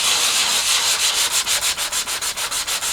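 Hand sanding of a cyclekart nosecone buck: steady rasping strokes, close and loud, settling into a quick, even back-and-forth rhythm with no voices.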